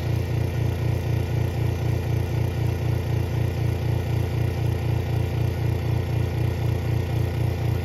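An original 1970 Pontiac Ram Air III V8 idles steadily and close up, its low, even pulsing lope holding constant throughout with no talking.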